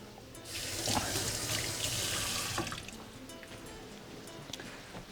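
Running water from a kitchen sink tap splashes over a hand being rinsed, a steady hiss lasting about three seconds before it fades into quieter kitchen clatter.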